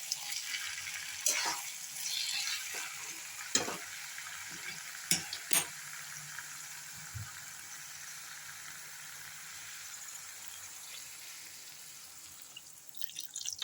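Bottle gourd and potato curry sizzles in a pan while a few sharp clinks and scrapes break in early on, followed by a steady quieter hiss as water is added.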